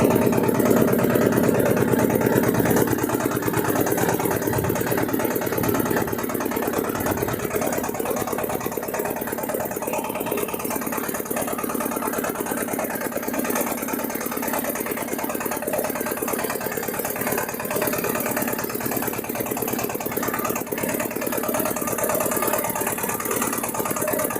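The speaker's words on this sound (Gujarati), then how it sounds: "હવે ટ્રેક્ટર તમે અમને ખેડૂત મિત્રોને એને હાંકીને દેખાડ્યું" A tractor engine runs steadily at a constant mid-pitched drone, loud and close, with no talking.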